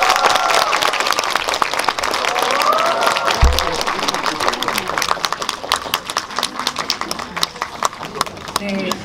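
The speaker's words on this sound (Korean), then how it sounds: "박수 부탁드립니다" Loud, dense applause from a cinema audience greeting the director and guests at a special film screening Q&A in a Lotte Cinema hall, a sustained wash of clapping that thins slightly toward the end, with a voice and brief crowd noise underneath.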